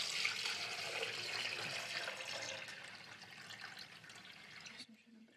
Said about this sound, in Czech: U proudění začneme tak, že si do konvice vlijeme 600 ml vody.